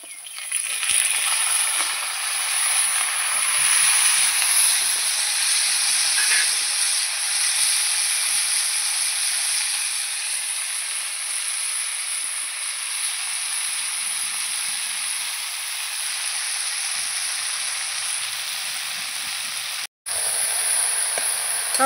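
Potatoes and other vegetables for a home-cooked pachan fry in a pan with a loud, steady hiss that holds almost unbroken for over twenty seconds, cut by a brief dropout near the end.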